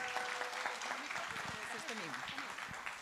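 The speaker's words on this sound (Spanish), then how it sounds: "Un aplauso para Silvia y para nuestros panelistas." Audience clapping for a panel and its moderator at a Colombian customer-experience forum, fairly faint and steady, with voices talking over it.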